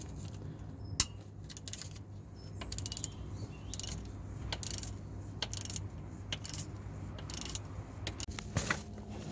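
Bolts are being removed from the oil sump of a Rover 45 engine, giving a busy run of ratcheting mechanical clicks and metallic ticks at close range, with sharp knocks now and then and no talking.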